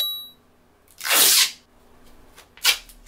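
Packing tape ripped off the roll while making a costume: a loud, bright tearing burst lasting about half a second, then a quieter pause and a second, shorter rip near the end.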